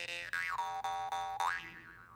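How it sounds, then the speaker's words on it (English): A jaw harp twangs alone, its bright buzzing drone bending up and down in pitch with several plucked re-attacks, a clear close solo that fades out at the end. "This is a jaw harp."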